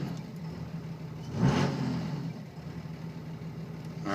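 A vehicle engine idles near the fuel filter housing and is given a brief throttle blip that swells around the middle and then falls back to a steady idle.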